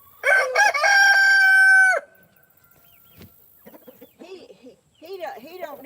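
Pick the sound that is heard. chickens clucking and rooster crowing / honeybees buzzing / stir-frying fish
chickens clucking and rooster crowing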